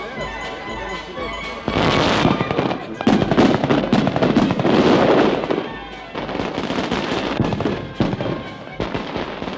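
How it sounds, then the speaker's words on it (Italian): Fireworks at the 1977 feast of Sant'Oronzo in Ostuni, Italy, crackle and pop in dense irregular bursts, loud and close, with sharper bangs and rolling rapid volleys after a quieter opening. "canti, fuochi d'artificio che solo a notte fonda si concludono i festeggiamenti in onore di Sant'Oronzo"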